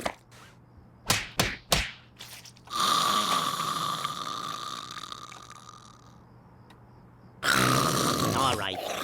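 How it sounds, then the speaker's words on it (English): Daffy Duck from The Looney Tunes Show snores in a cartoon scene: loud, rasping drawn-out snores with a long inhale and exhale, preceded by a few sharp slaps or taps. "Come on, you're snoring."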